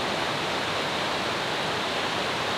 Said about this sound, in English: There's another waterfall that I can see through the trees